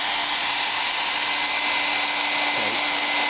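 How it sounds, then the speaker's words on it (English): A hair dryer on its highest setting blows steadily at full power onto a bed control display and ribbon cable, loud and close, its constant whooshing roar unbroken throughout. "Just put the hair dryer right on it, on this display and on the ribbon cable."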